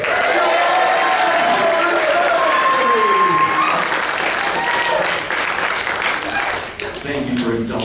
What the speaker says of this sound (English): If you start clapping, it'll be good.